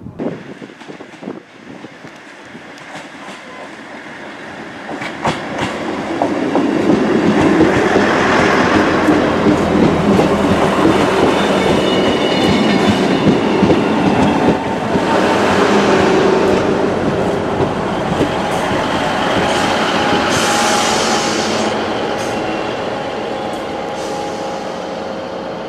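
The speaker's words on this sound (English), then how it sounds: "let's catch that train right now." A diverted Northern Trains passenger service heard from on board, the rumble building as it pulls away, then a steady rolling drone with clickety-clack of wheels over rail joints and occasional squeaks.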